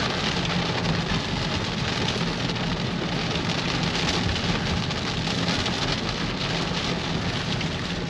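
Steady heavy rain drums on an old Toyota Camry while it drives along the road between Bandung and Jepara, a dense continuous wash with low road rumble beneath, no voices.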